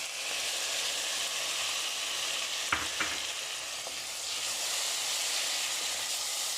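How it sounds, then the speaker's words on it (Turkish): Steady sizzling of diced potato and vegetables sautéing in a pan, with a couple of brief stirring clinks partway through; close and continuous. "Bunların böyle hepsi 5 dakika sotelenecek."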